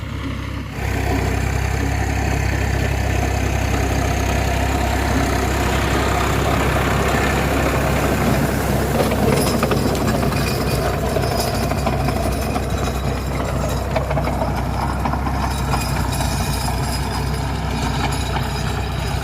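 A tractor engine runs steadily through field sowing, with stubble-choked ground making the work harder; a loud, continuous low rumble with a rough, rattling mechanical clatter over it, close by and without voices.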